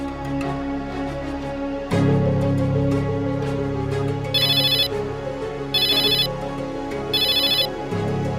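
A telephone ringtone sounds in three evenly spaced bursts in an indoor drama scene, loud and clear over a low, steady musical background.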